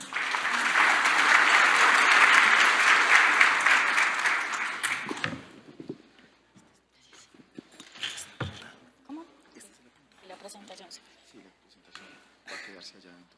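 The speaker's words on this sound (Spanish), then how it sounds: "Un aplauso para ella." Audience applause for Diana Carolina Torres, Contralora Delegada para Regalías, as she takes the stage at a conference: a dense, steady round of clapping for about five seconds that stops abruptly, followed by quieter movement, scattered sounds and talk.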